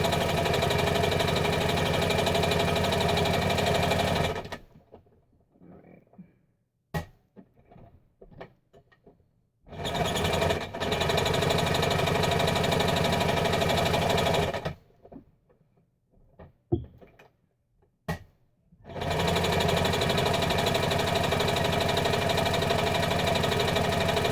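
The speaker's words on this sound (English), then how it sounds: "Sorry for the horrible sewing machine sound." A sewing machine stitching a tote bag runs in loud buzzing mechanical bursts of about five seconds each, separated by quiet pauses filled with faint handling clicks and fabric shuffling.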